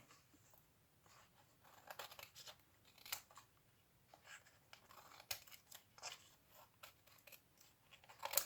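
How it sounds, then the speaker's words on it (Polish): Scissors trim the overhanging edges of coloured paper cutouts flush with a sheet while making a paper-cutout Easter egg, giving quiet, close snips in an irregular run with no talk. "Docinam, aby były równo z kartką."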